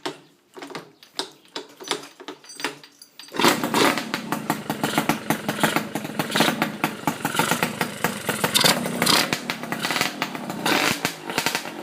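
An RC100 motorcycle engine fitted with a homemade modified exhaust pipe, first spitting a few sharp separate bursts, then settling into continuous rough, raspy running with repeated throttle blips, close up.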